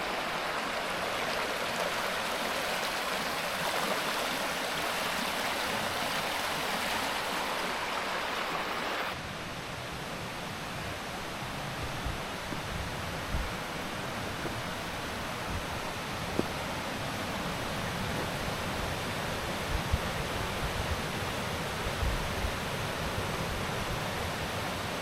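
A forest creek on Vancouver Island's Mackenzie Creek Trail gives a steady, close rush of flowing water, softening a little partway through and continuing evenly, with no voices.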